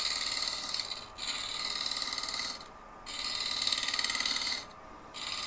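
A woodturning tool cuts and shear-scrapes the bottom of a highly figured English walnut bowl spinning on a lathe, giving a steady rasping hiss that pauses twice briefly. No one speaks.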